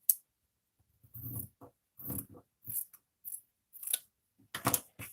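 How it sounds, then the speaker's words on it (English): Scissors cut fabric for a doll purse in a quiet room, with about seven short, crisp snips in an uneven rhythm, close and fairly soft. "then we're going to cut it like we did last time"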